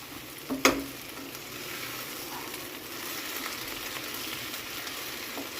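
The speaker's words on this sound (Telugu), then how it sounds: "ఇది ఇట్లా ఫ్రై అవుతూ ఉంటుంది." Gongura leaves fry in a pan for a traditional Telangana chutney, with a steady close sizzle and a brief sharp clatter near the start, no one talking.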